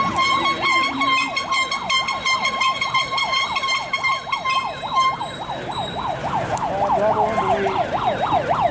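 A wailing emergency-style siren sweeps up and down repeatedly at a march, loud and close, joined by sustained blaring air horns from counter-protesters, continuing without pause.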